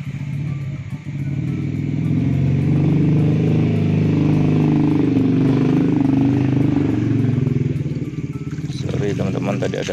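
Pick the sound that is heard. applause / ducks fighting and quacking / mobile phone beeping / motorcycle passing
motorcycle passing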